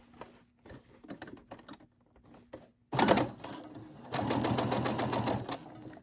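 Brother SE600 sewing machine stitching a reversible fabric gift bag: short bursts of rapid mechanical clatter, then a louder sustained run of needle chatter close by.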